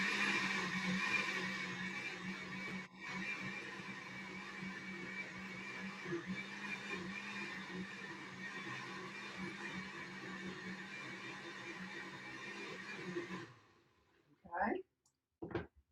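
An Osterizer blender churns paper pulp in one continuous whirring run for about thirteen seconds, steady and fairly loud, then switches off, followed by brief voices.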